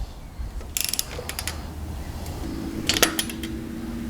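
A torque wrench tightens the engine head bolts on a Miller Trailblazer 250 welder generator to 20 foot-pounds, giving quick bursts of metallic ratcheting clicks in short runs over a low background hum.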